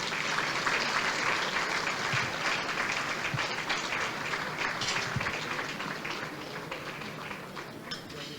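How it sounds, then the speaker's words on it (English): An audience at an anniversary gala and awards event applauds Professor Randolph Williams, with steady, dense clapping that fills the room and holds at an even level throughout. "Please applaud him."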